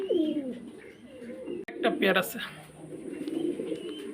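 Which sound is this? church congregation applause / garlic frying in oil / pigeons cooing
pigeons cooing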